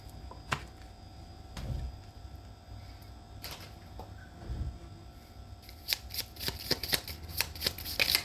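A deck of tarot cards is shuffled by hand at close range. Soft, irregular riffles and slaps grow into a quicker burst of flicks near the end, and no one speaks.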